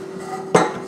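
A baking dish for baklava is set down on a counter with one short hard clunk near the end, heard close and alone over a quiet kitchen hum.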